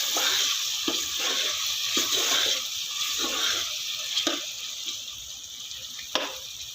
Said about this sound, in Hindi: देन मैं इसमें ऐड कर रही हूँ टमाटर, अच्छी तरह भूनेंगे।